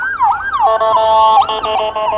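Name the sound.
ambulance siren passing by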